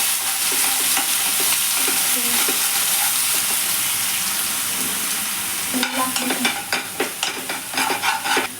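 Masala paste for egg curry fries in hot oil, giving a loud, steady close sizzle, then stirring scrapes and clacks join in near the end, with no talking.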